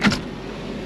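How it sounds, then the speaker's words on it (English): Power window motor on a 1993 Honda Accord coupe, a short whirring burst lasting about a fifth of a second near the start, then fading into a low steady cabin hum. "Both windows do work."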